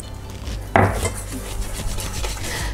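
Icing sugar being mixed with egg white in a bowl, with a scraping, clinking utensil sound that starts with a sharp knock and continues as steady stirring and rubbing close by, no talk.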